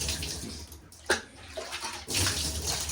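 Fluval canister filter media being rinsed under a running tap, a steady rushing splash of water that briefly dips and then surges back louder, with no talking.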